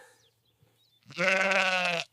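A single sheep lets out one loud, clear, wavering bleat close by after a quiet pause.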